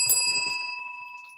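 A single bright bell ring struck once, its clear metallic tone sustaining and slowly fading over a second.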